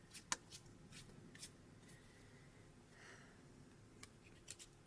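Tarot cards being shuffled, with soft riffling, brushing and a few crisp flicks and taps arriving in irregular bursts, close but quiet against a faint background hiss, without speech.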